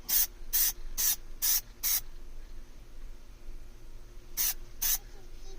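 Plasti Dip is sprayed onto the steering wheel emblem of a 2014 Toyota Tundra in short, close aerosol bursts, five in quick succession, then a pause and two more.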